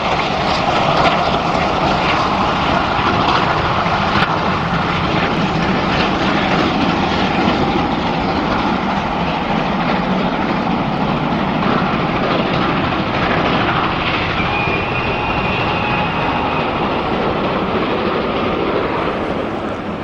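Two steam locomotives, 5029 and 5051, haul the returning Penzance Castles Charter up Whiteball bank with a loud, sustained roar of exhaust and working, close and unbroken, with no voices.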